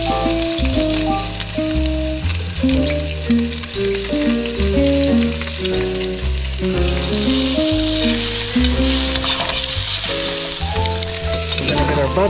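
Hot oil sizzles and crackles steadily in a pan for pan-seared salmon, a continuous bright hiss running beneath prominent background music throughout.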